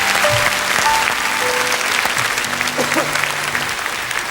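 A TV studio audience applauds a young child contestant on a French children's talent show from 1983, with steady, dense clapping filling the whole stretch at a fairly loud level.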